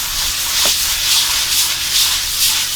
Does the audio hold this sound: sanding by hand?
yes